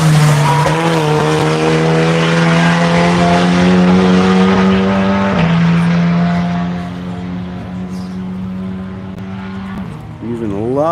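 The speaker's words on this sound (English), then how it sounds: "I hear some mad little engine off in the distance, powering this way." A race car engine roars loud and close on a track during a One Lap of America event, holding a steady high drone with gear shifts before fading slightly, then swelling again as another car approaches.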